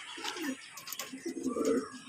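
Female tippler pigeons in a loft produce a brief run of low, rolling coos, a couple of birds calling close by in short overlapping bursts.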